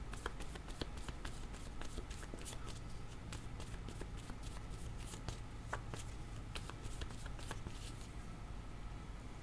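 Playing cards drawn and handled during a board game, a quick run of soft flicks and shuffling slides over a dense, steady background noise, close but faint.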